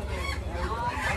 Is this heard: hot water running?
no